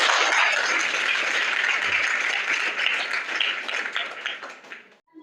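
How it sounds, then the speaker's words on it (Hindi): Schoolchildren at a quiz at a junior high school in Varanasi clap together in a lively burst, the applause holding steady, then thinning and stopping abruptly near the end. "इनके लिए आप लोग तालियां बजाइए"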